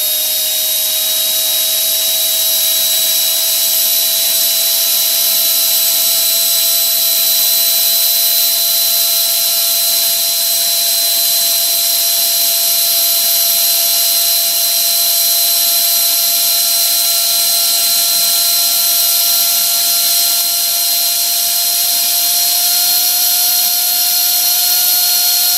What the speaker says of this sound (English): I will slowly turn up the throttle. As you can see, the number goes up, and we are now at full throttle.